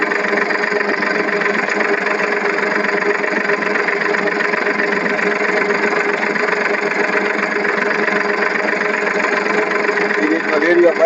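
Steady, continuous engine drone from a tractor fitted with a pole, running in a crop field and holding an even idle-like hum throughout.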